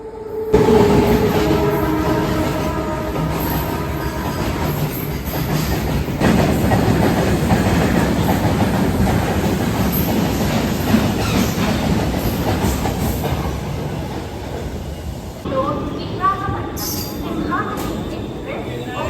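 The Simhadri Express pulls into a station, its wheels rolling with rhythmic clickety-clack and rumbling carriages close by, a brief horn early on, and platform voices and announcements mixed underneath.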